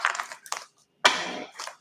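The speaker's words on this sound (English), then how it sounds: "If I can shuffle." Playing cards being shuffled up close, a few brief papery riffles and flutters in separate bursts with short pauses between them.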